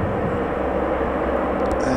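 The engines of a Lockheed C-130H Hercules of the Royal Netherlands Air Force hold a loud, constant roar at Cambridge, close and steady, with no talk.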